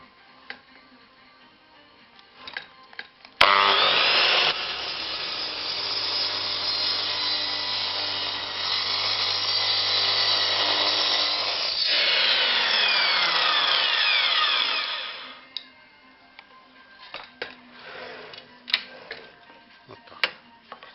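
A Metabo KGS 216 M miter saw with a dull blade roars through wood in one long, loud cut lasting about twelve seconds, with quieter clattering and handling noises before and after.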